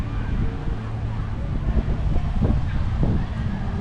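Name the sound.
wind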